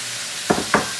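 Two quick stirring strokes toss cooked shrimp through a quinoa stir-fry in a pan, brief scraping swishes over a faint steady background.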